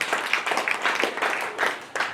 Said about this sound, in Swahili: Piga Bwana makofi.